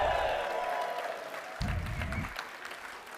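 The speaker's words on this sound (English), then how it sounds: "let's cheer for Steve right now" At a celebration-of-life gathering, a crowd cheers and claps for Steve, with a mid-level burst of applause and shouts, low voices, and a short rumbling patch partway through.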